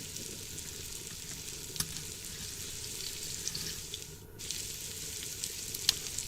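Vegetables frying in a pan make a continuous soft sizzle and crackle, close and quiet, with a few brief clicks and a short dip in the noise partway through; no one speaks.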